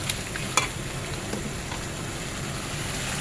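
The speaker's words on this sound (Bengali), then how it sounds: "এবারে একটু ভালো করে কষাবো" Egg curry masala with green chillies being sautéed in a pan, a steady low sizzle of frying with a faint scrape or two near the start, continuous and fairly quiet, no voices.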